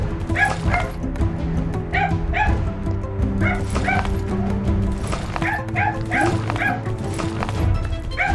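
Several dogs bark and yip in rapid, overlapping bursts over a steady low hum, fairly close and loud throughout.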